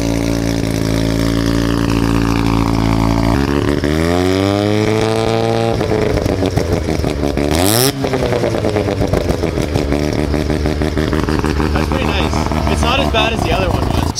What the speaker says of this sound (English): you always comment the exhaust is too racy